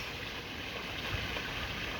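George River in St. Joseph, Barbados, flowing steadily, a continuous broadband rush of water close by with no voices.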